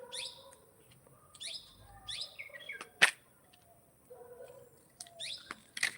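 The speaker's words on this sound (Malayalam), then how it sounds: "എന്ത് കിളിയാ" Outdoors, a bird gives clear bursts of quick chirping notes in short groups, close and fairly loud, with softer calls between them and a brief sharp click partway through.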